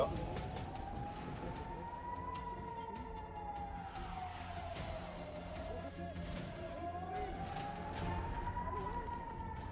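A siren wails in slow rising and falling sweeps, steady and somewhat distant, over a rumbling background of traffic and commotion amid rubble after a missile strike in Israel.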